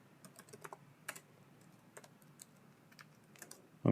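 Irregular clicks of typing on a computer keyboard as Python code is entered, light and close, with short pauses between keystrokes and a bump of handling noise at the very end.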